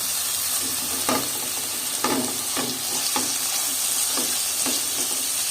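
Homemade economical basterma meat fries in a pan with a constant bright sizzle, broken by repeated scraping strokes of a utensil stirring the pieces, close and steady.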